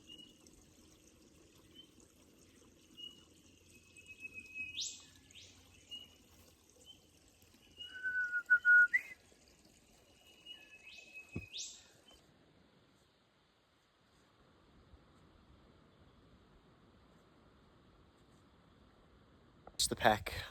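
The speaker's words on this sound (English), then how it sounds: "just listen to the birds" Birds along the Wells Cave Track in Victoria's bush give a few faint, drawn-out whistled calls over quiet rustling and trickling, with a louder knock near the end.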